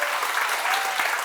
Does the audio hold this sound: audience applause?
yes